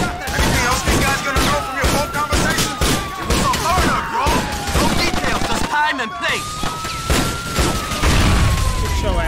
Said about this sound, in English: We shooting at the police.